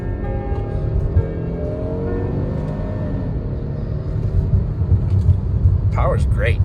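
2021 Kia Telluride EX with a front-wheel-drive V6 accelerating gently through a roundabout on 20-inch tires, a steady engine rumble rising slightly in pitch beneath a voice talking inside the cabin.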